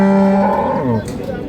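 A dairy cow moos once at Ambari cattle market in Dinajpur, a long, loud, close lowing call that bends downward in pitch, with faint crowd noise behind it.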